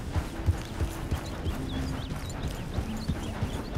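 A horse's hooves clip-clop steadily on hard ground in Red Dead Redemption 2, a moderately close, even walking rhythm of distinct thuds continuing throughout with a faint ambient backdrop.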